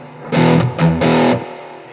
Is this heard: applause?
no